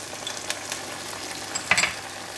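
Ginger scallion sauce with chili and light soy sauce sizzling in a hot pan as it is stirred over the heat, a steady crackling hiss with a few scraping clinks, close and alone.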